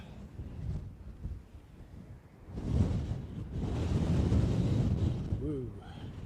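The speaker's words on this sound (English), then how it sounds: "Very breezy all of a sudden." Strong wind gusts roar across an open airfield at Dublin Airport, a steady broadband rush that builds and stays loud, with a brief voice exclaiming near the end.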